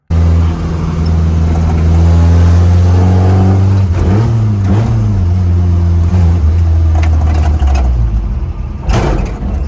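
A 1972 Ford Courier mini truck engine drones loudly and steadily up close, its pitch rising and dipping as it accelerates, with cabin rattles over the constant engine roar.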